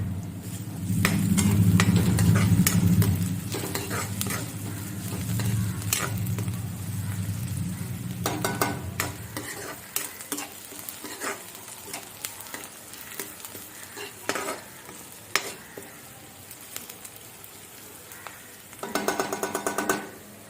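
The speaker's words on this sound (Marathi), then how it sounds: "कांदा बऱ्यापैकी भाजलेला आहे" Chopped onion frying for egg bhurji in a pan at home, with loud, dense sizzling at first that settles into a quieter crackle, broken by scraping stirs and occasional clinks against the pan.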